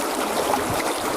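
Water sloshes and trickles steadily in a gold pan as the top layer of material is washed off, a continuous close watery rush with no talk.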